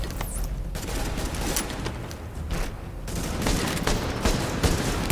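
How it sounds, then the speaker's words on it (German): Dense, continuous enemy gunfire in Tom Clancy's The Division, a clattering barrage of overlapping shots and bursts that keeps up throughout, fairly loud with no talk. "Und von rechts schießen auch irgendwie ganz viele."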